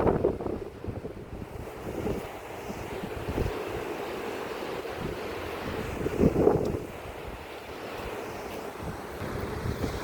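Sea wind blowing along a beach promenade in Prachuap in the evening, a steady loud rush buffeting the microphone, with surf washing beneath it and a brief gust swelling near the end.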